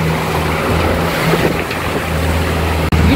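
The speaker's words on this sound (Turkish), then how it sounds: "Resmen 3-4 metre dalgaların üstünden geçiyoruz." Sailing boat crossing large 3–4 metre waves at sea, a loud steady engine drone with rushing water and wind, and one sudden sharp thump near the end.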